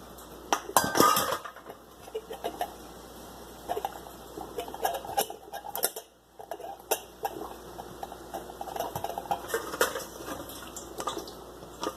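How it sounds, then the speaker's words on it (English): Hot boiled Swiss chard goes into a glass canning jar, giving a scatter of soft clinks and knocks of glass with wet, clattering handling noises, close and fairly steady, with a brief pause midway. "I take that chard that I just boiled and get it put right into that canning jar while it's still hot"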